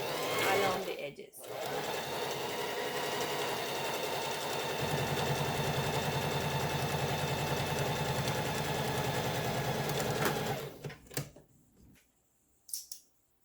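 A sewing machine stitches along the edge of a pet collar, a steady mechanical whir that runs loud and continuous for about ten seconds before stopping, with brief handling noises afterward.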